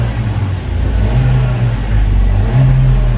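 The 1.5L four-cylinder engine of a 2020 Chevy Malibu with a random misfire is revved at close range, a loud, steady mid-pitched drone with the engine note rising in short steps.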